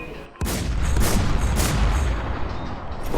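Gunfire in the WarZ video game: loud, close, booming shots burst out after a short quiet, then a rolling barrage of blasts continues with a final sharp report at the end.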